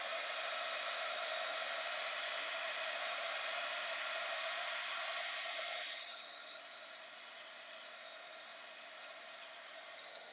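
A heat tool blows a steady close whooshing hiss while warming embossing powder from the back of an art journal page, loud at first and then dropping to a softer, fluctuating rush about halfway through.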